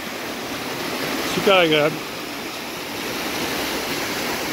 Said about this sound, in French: Bercé par le son de la rivière.